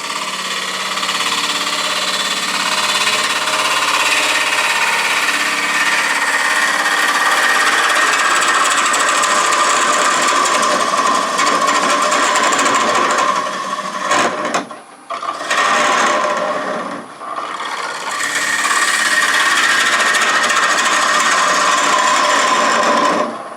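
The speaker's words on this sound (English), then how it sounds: "I'm going to switch to a smaller bowl gouge, switch to a 1/2 inch, pick up the cut." A half-inch bowl gouge cuts a rare cherry burl bowl spinning on a wood lathe, a loud continuous rasping scrape with two brief dips where the tool lifts off, alone without talk.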